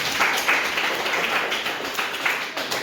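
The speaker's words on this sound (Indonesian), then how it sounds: "kita beri tepuk tangan untuk kita semua." Classroom applause: a group of students claps together in a steady, fairly close patter of many overlapping hand claps.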